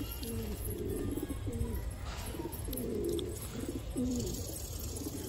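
Pigeons bred for flying, kept in a collection in Jalgaon, coo repeatedly in soft, rolling calls close by, over a constant background hum.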